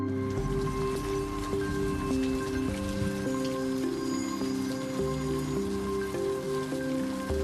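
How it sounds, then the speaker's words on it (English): Soft, steady rain patters over a futuristic city beneath a slow, moody synthesizer melody, the whole scene quiet and continuous. "Rain pours endlessly over a futuristic city"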